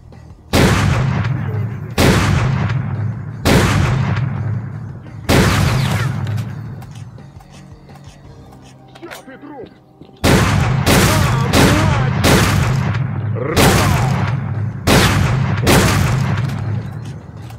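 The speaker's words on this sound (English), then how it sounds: "we're going to switch to our shotgun, which hasn't seen a lot of use lately" Shotgun blasts in S.T.A.L.K.E.R.: Clear Sky fired at close range, a dozen loud booming shots in irregular bursts with a short lull midway, each ringing out over steady background rumble.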